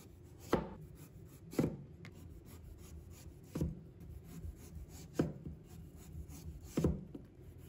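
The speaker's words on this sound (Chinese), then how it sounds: "把南瓜的外皮切掉不要" A knife slices the peel off an old pumpkin on a cutting board, landing about six firm, close chops at an uneven pace with quiet scraping between strokes.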